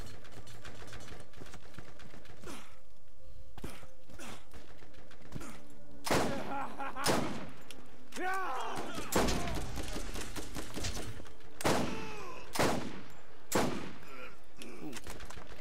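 Gunfire in the Borderlands video game, with bursts of rapid automatic shots and single heavy blasts crackling in irregular clusters, sparse at first and then denser and louder over quieter game ambience.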